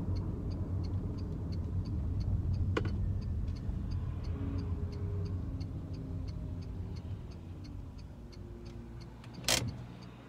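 A car's turn signal indicator ticks in a steady, even rhythm inside the cabin, faint over the low rumble of the idling engine, with a brief louder thump near the end.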